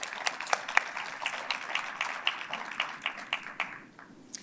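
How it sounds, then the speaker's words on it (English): Banquet audience applauds sponsors at a business awards event, a moderate patter of many hands with some sharper claps up close, fading toward the end. "Let's give them a big round of applause, please."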